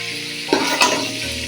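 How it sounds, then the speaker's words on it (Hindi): Chicken pieces sizzle in hot oil in a pan, a steady bright frying hiss with two brief louder bursts as pieces are stirred or moved. "जी चिकन हमारा अच्छे तरीके से फ्राई हो चुका है"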